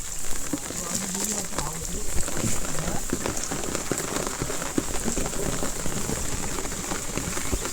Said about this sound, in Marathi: तुम्ही बघू शकताय पाऊस भरपूर आहे